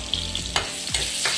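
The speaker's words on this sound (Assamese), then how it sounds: "এয়া দালিত তেল মাৰি আছে মায়ে" Hot oil sizzling steadily in a pan of dal during tempering, with a few sharp crackling bursts and stirring scrapes over a continuous hiss, close by and with no talking.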